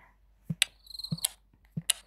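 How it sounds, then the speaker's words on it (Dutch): Crickets chirp from an anti-stress relaxation app in short, crisp, evenly repeating bursts with quiet gaps between them, close and clear. "Ik vind die krinkelgeluid zo kut. Krekels."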